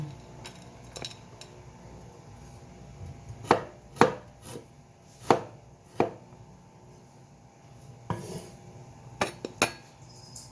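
Ginger chopped with a knife on a cutting board: a handful of sharp, close knife strikes come in uneven clusters, with quiet gaps between them and no voices.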